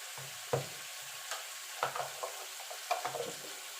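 Fish oil sizzles in a pan with a spoonful of ginger-garlic paste, a steady close frying hiss broken by several scraping stirs of a spatula, with no talking.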